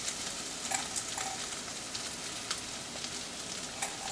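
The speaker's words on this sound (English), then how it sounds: "Now the potatoes are cooked, I'm just adding a few peanuts here and going to add some crushed peanuts." Peanuts being added to cooked potatoes frying in a pan give a steady, even sizzle with scattered small crackles and light taps throughout, fairly quiet and close, with no voices.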